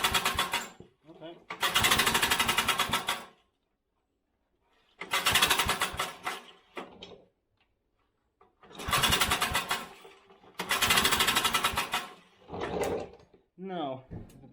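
A vintage Briggs & Stratton engine, flooded after more than 20 years unused, is pulled over in repeated loud cranking bursts that sputter without catching, with pauses between attempts.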